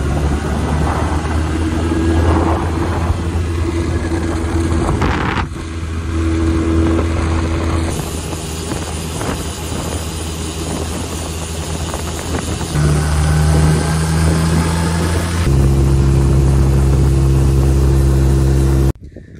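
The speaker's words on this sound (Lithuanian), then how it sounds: "motociklas surinktas ir dabar darau test raidą" A stunt motorcycle engine runs loud and close on a test ride, holding a steady roar that shifts pitch several times as the revs rise and fall, then cuts off abruptly at the end.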